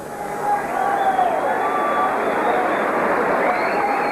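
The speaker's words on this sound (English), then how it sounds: "The crowd erupts." A rugby league crowd at a St Helens versus Leigh cup match roars steadily after a try, a broad sustained wall of cheering that stays loud for several seconds with a few whistles riding on top.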